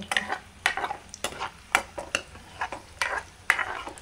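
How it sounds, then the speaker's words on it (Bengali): Raisins fry and are stirred in a pan while pilaf is prepared as an offering, giving a run of irregular spatula scrapes and soft sizzle bursts, close up and moderately loud, with no talking. "কিশমিশ ভাজা হয়ে গেছে।"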